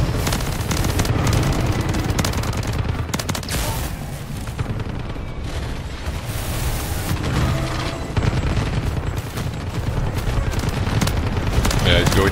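Dense, continuous gunfire in the game MW3 Zombies, rapid bursts and booms layered throughout at high volume, with players talking over the shooting.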